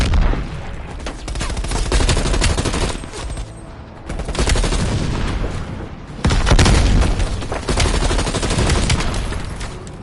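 Intense combat sounds in a Cold War-era shooter game, with heavy booming blasts and continuous automatic gunfire, loud and dense, with surges where explosions hit.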